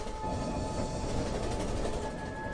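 A train rumbles steadily through a railway station, a loud continuous mix of rolling wheels and metallic rail noise with faint squeal tones, filling the whole moment without pauses.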